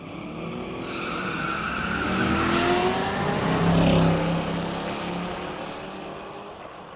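A 2006 Corvette and a 1973 Pontiac launch at a street-legal drag race at Mission Raceway Park, their engines roaring as they pass and swell to a peak midway before fading, heard from a distance.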